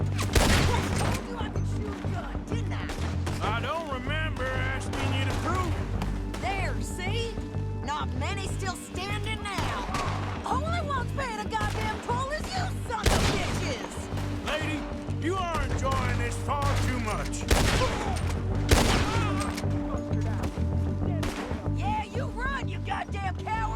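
Gunfire in Red Dead Redemption 2 comes as repeated sharp cracks and bursts in an outdoor shootout. Voices talk over the shots, and mechanical clatter and game ambience fill the background throughout.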